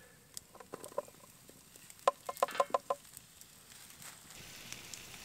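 Birds in summer woods around a canvas bell tent campsite, several sharp clucking calls in short bursts over faint crackling, fairly close, with no talk.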